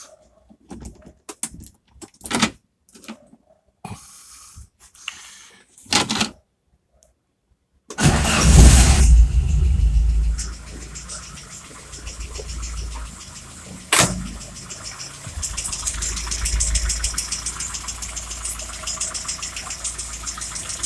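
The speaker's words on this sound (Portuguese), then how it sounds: "Uma coisa que eu não mostrei ainda foi o carro funcionando depois dos ajustes." A 1600-real Volkswagen Santana, bought cheap and reworked in a home garage, with its idle air control actuator removed so idle is set by hand. After some clicks and handling noises, the engine cranks, starts loudly, then settles into a steady idle.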